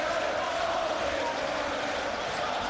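A hostile boxing crowd at a Martin Lindsay versus Paul Appleby fight, a constant roar of shouting and chanting in the arena under a commentator's voice.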